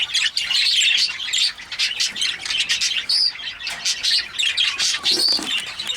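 A bird repeatedly squawks and chirps at a nest box in spring, loud and close, with rapid calls continuing throughout.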